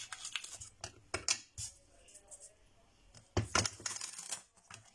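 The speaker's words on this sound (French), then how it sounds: "Je vais couper." Scissors snipping paper for a handmade mini fold-out album, a few quick close cuts in short bursts separated by brief quiet pauses.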